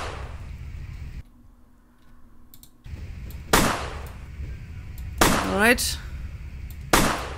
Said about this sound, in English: And now I'm going to shoot the bottles.